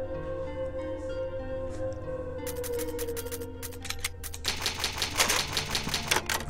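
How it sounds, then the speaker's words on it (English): Old typewriter used to save progress in Resident Evil HD Remaster, heard as rapid mechanical key clacks that start sparse and build into a dense burst of typing over a quiet, low ambient music bed. "It's an old typewriter."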